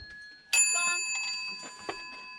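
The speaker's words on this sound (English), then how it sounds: "Beautiful brassy bells." Brass bells ring out with a sudden bright strike followed by sustained, shimmering tones, a second lighter hit adding to the ringing near the end; nearby and clear in an otherwise quiet setting.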